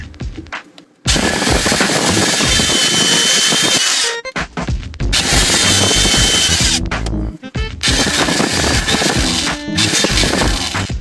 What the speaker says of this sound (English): I guess I'll drill a few more here.